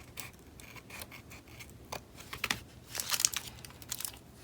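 Scissors snip along the edge of a paper page on a planner divider, with a run of small close crisp cuts and light paper crinkles, no talking.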